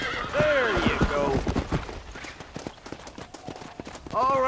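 Horse hooves clip-clop in Red Dead Redemption, a quick run of hoof strikes under a voice and a whinny, with talk returning at the end.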